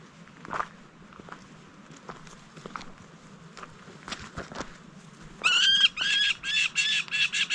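A hawk calls along the Te Araroa trail in New Zealand, a run of harsh, repeated squawks near the end, after scattered footsteps and light rustling.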